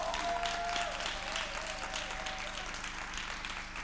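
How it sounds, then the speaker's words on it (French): Studio audience clapping for an energy drink sponsor on a reality-TV stage in Côte d'Ivoire, a moderate, fairly distant wash of applause over a steady low music hum, fading slightly toward the end. "sponsorisée par une boisson énergétique King Lion qu'on applaudit très fort"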